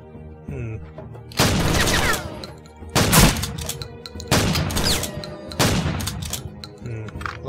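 Bursts of gunfire in the shooter video game Blade of Agony come in about four loud, booming volleys with echoing tails, and quieter game sounds fill the gaps between them.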